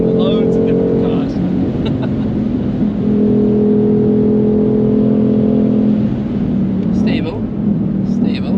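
Ford Mustang Shelby GT500 engine droning steadily inside the car on the Nürburgring, a loud sustained tone with shifting pitch as the car accelerates, with people talking over it throughout.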